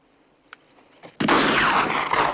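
A gunshot rings out in a TV western, a sudden loud close blast that follows a couple of faint knocks and then rolls into a long, noisy echoing decay.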